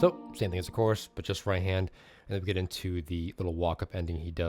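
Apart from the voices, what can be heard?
No everyday noise stands out behind the speech.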